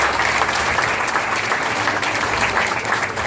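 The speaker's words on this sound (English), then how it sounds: "Please give them a round of applause." A roomful of people at a district office grand opening clapping steadily, a full and sustained round of applause that stays at the same level from start to finish.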